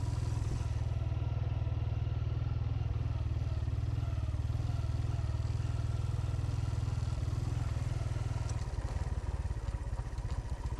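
Motorcycle ridden over a rough, potholed rural road, its engine thrumming steadily and close throughout, with rattling clatter from the bumps growing rougher near the end.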